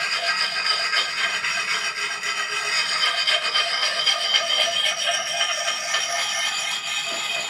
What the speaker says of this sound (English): you can actually tell where you are sharpening and if you're on the right course by the sound